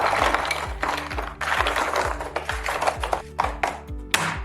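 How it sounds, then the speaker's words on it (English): Repeated hard taps and crunches of a hammer cracking walnut shells held in an egg carton, a rapid irregular series of cracks close by, with music underneath. "Go over them with a hammer, the nuts will crack and the shells will stay in the cells."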